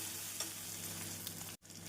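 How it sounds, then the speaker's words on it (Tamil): Chopped onion, ginger and garlic sauté in a hot pan for ghee rice, giving a steady close sizzle and fry with a brief stir scrape partway, then a momentary cut before the frying resumes. "வெங்காயம், இஞ்சி பூண்டுடன் இந்த அளவு வதங்கவும்"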